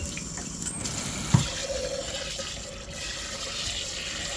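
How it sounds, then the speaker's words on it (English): Water poured into a cast iron South African 3/4 potjie pot with a splash of pickle juice during rust restoration, a steady close running and splashing over about four seconds. "Add a little water to it."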